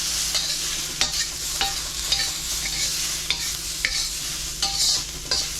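Shallots charring in a hot wok while being stirred, giving a loud steady sizzle broken by a handful of sharp scraping clicks from the utensil at irregular intervals.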